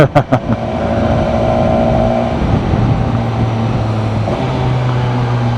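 An old Honda XR motorcycle engine running steadily and loud up close on a mountain road in the Pyrenees, a few sharp pops at the start, then a constant drone with slight shifts in pitch.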